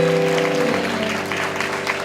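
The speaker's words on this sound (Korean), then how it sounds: "우리 주님 앞에 감사와 사랑과 영광의 박수를 드리겠습니다" A congregation claps together during a Sunday worship service at Onnuri Church's young adults ministry. The steady, dense applause lasts the whole stretch, with sustained instrumental tones beneath it.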